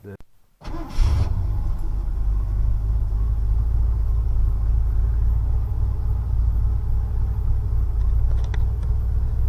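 A Ford F150 engine cranks after a brief quiet moment, then settles into a steady, loud, low rumble that holds close by for the rest of the stretch.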